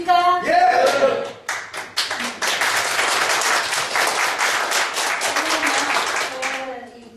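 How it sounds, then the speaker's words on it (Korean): Audience members at a talk clap loudly together in a dense, sustained burst that fades out, with a voice speaking briefly before and after. "근데 이렇게 할 때 박수를 크게 쳐야 됩니다"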